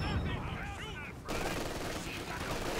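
Machine gun fire in the Company of Heroes video game, a 4v4 battle on the Port of Hamburg map, with rapid bursts dense and continuous across the clip, partly under a voice speaking at the start.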